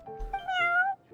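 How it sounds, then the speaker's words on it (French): A cat character in Genshin Impact gives a short, drawn-out meow with a bright rising-and-falling pitch, close and moderately loud, followed by a faint voice. "Ce chat qui nous regarde."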